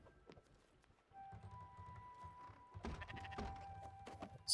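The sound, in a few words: sheep bleating in video game Spiritfarer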